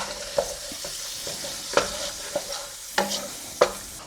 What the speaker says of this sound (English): We're gonna start cooking our bacon.